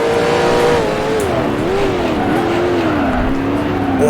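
A race car engine in the Grand Prix Legends racing game, a 1966 Can-Am round at Mont Tremblant, revs loud and close. The pitch dips and climbs steadily as the throttle is worked through gear changes, with no voices.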